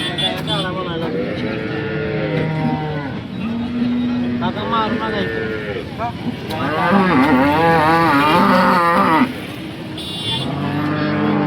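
A cow moos loudly and repeatedly, long drawn-out lowing calls, with people talking and crowd noise around at a busy cattle market in Sangola, Maharashtra.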